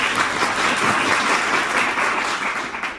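Audience applause at a Brazilian lecture, a steady dense clapping from a large crowd filling the whole stretch at even loudness, with no talk over it.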